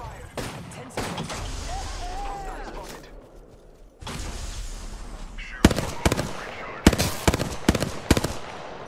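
Gunfire in the video game Apex Legends: loud, sharp shots in quick bursts, with rapid cracks clustered toward the end, over a busy game soundscape.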